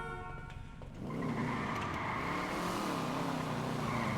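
A car engine in GTA V rises from a quieter idle into a sustained, loud, steady running drone with tonal whine, heard alone without talk.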